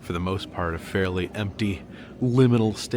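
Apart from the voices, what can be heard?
No distinct noise like a dog, phone or traffic.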